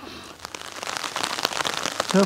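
Raindrops pattering on a tarp shelter, a dense close tapping of scattered drops that grows slightly louder, and a voice begins right at the end.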